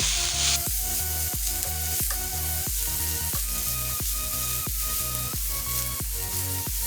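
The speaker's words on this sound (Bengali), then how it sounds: "এখন আমি সবগুলি এক মিশ্রণ একসাথে মিশিয়ে পাঁচ মিনিট ভেজে নেব" A cumin and red chili powder mixture sizzles in a hot pan for pizza topping, a loud continuous fry broken by rhythmic scraping strokes of a spoon stirring roughly every half second.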